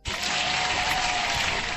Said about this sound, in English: Hand clap for the market, man.